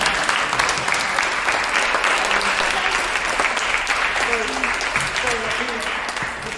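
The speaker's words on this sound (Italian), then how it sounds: "un applauso a te" An audience at a school meeting with the mayor of Ragusa breaks into steady, loud applause that carries on throughout, with some voices faintly audible beneath the clapping.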